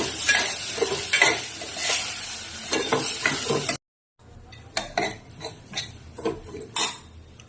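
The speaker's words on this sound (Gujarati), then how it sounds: "હવે આપણે એને ધીમો ગેસ રાખીને સારી રીતે એને સાંતળી લઈશું." Mung and masoor lentil mixture sautéed on a low flame, with a spoon scraping and stirring in the pan over a continuous sizzle, a short silent break midway, then sharper clinking strokes.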